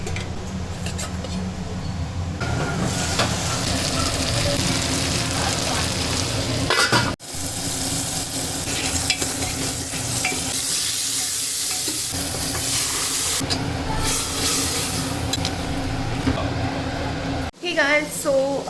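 Chura matar, flattened rice cooked with fresh peas, being stirred and fried in a pan: steady sizzling and scraping of a spatula throughout, with a break near the middle and faint background voices.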